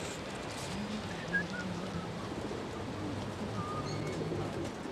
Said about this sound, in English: the pigeons are noisy today